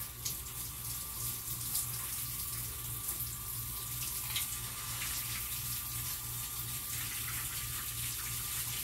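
A tap runs into a bathtub to fill it for a dog's bath, giving a steady, close gush of water that continues evenly throughout with a low hum beneath.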